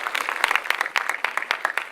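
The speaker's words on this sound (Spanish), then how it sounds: "Por favor, un aplauso para Mariana Rivera" Audience applause for a guest arriving on a Spanish-language talk show, dense steady clapping from a studio crowd, fairly close and unbroken, with no voices heard over it.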